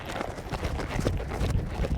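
Horse hooves clip-clop in a steady, busy rhythm against a continuous noisy outdoor background, sounding fairly close throughout.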